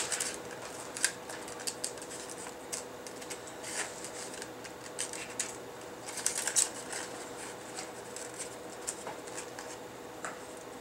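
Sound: scissors cutting paper

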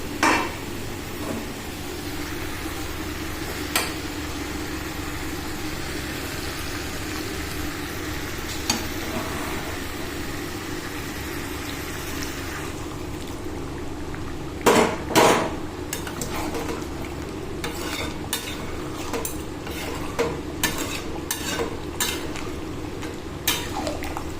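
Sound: boiling water added to frying mutton curry, stirring

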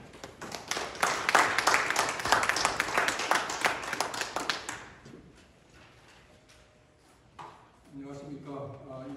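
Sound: audience applause welcoming a speaker

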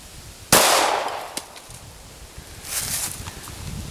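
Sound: gunshot hitting a can

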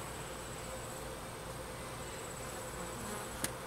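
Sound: honeybees buzzing during a cathedral hive inspection

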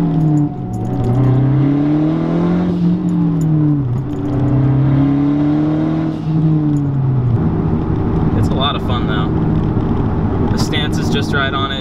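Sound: Mazdaspeed3 car accelerating with turbo boost

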